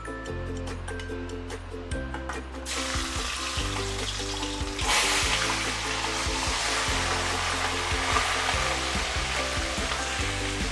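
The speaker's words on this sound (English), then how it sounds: "this is actually the time where we can actually toss in the fish" Pomfret fish dropped into smoking hot oil for deep frying: a loud, dense sizzle swells suddenly partway through and holds steady, with rhythmic electrical hum beneath and no talk.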